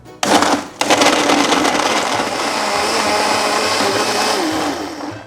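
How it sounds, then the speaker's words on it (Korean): A loud blender starts up, cuts out for a moment, then roars steadily as it grinds boiled pork fat with water into a thick mixture, whirring continuously up close. "그리고 비계를 곱게 갈아주세요."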